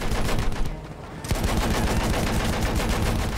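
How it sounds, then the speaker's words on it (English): Rapid automatic gunfire in the video game Battlefield 1, loud and close, a dense burst of repeated shots that briefly pauses before resuming in a continuous rattling stream. "I'm shooting him and he doesn't die."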